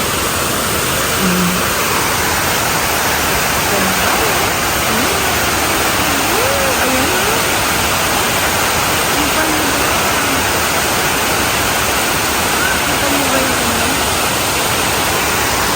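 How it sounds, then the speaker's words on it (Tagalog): A waterfall at Engkanto Falls in Bicol roars in a constant, loud, dense wash of rushing water that fills the whole scene, with faint voices barely rising above it. "Ang ganda-ganda ng falls, eh."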